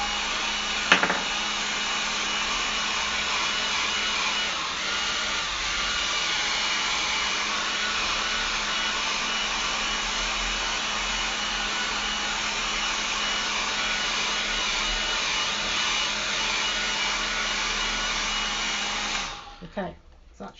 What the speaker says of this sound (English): I'm just going to quickly give it a quick blast with the hairdryer